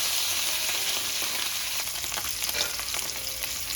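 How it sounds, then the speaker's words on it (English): A steak sears on a hot pan to build a crust, giving a loud, dense, continuous sizzle and crackle close up, with no voices. "So we're just dropping it onto this pan to get a crust on it."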